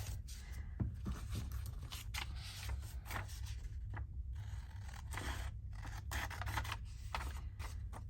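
Scissors snip and slice through paper in a long run of crisp cuts and rustles, close and fairly quiet over a low steady hum in a craft workspace.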